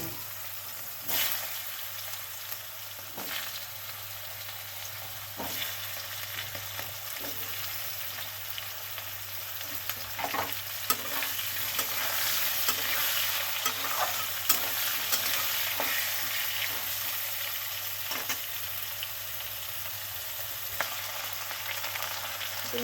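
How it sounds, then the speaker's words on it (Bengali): Potatoes fry steadily in hot oil with black cumin seeds, a continuous soft sizzle with occasional stirring clicks from a spatula, close and even throughout with no talking. "আলুগুলো ভাজে গেছে।"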